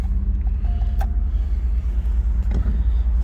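A 1985 Rolls Royce Corniche driving, its low steady engine and road rumble continuous and fairly loud throughout, with a couple of faint creaks and clicks from the cabin.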